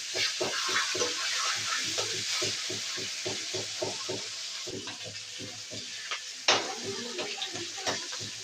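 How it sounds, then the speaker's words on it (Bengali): Fish heads crackle and sizzle in hot oil in a pan, with a steady bright hiss under a run of quick stirring scrapes and clinks of the spatula, close and fairly loud throughout. "এখানে গরম তেলে মাছের মাথাগুলো একদম মজমজ করে ভেজে নেব।"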